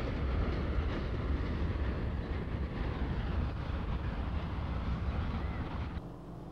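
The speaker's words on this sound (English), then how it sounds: "you've got a first class seat to watch this train roll by" A train rolling past below a mountain railroad inn on a foggy day, a steady broad rumble and rattle of wagons that holds evenly for several seconds and then drops off abruptly near the end.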